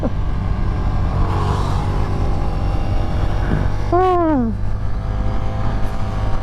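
Ducati XDiavel V4 cruiser motorcycle being ridden hard on a road while pulling wheelies, a loud, steady engine and wind roar with a brief rising-then-falling rev swell toward the end.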